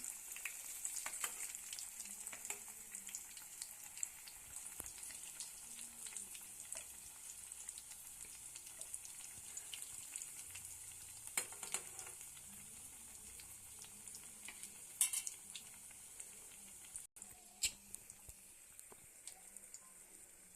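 Egg bajji fry in hot oil with a faint, steady bubbling sizzle and scattered crackles and pops, with a few louder clicks from handling and no speech.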